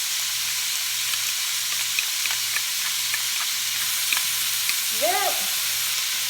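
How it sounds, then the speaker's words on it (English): The base of a lentil soup sizzles and fries in a hot pan, giving a steady bright hiss throughout with faint clinks of stirring. A short voice breaks in near the end. "I hope you can hear me because it's sizzling quite."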